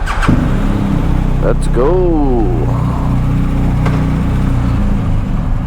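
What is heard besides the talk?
motorcycle engine starting and pulling away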